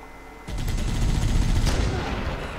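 Sniper rifle fire in the video game Halo: Combat Evolved (Anniversary edition): a loud, sustained burst of gunfire and booming blasts starting suddenly and rolling on without talk.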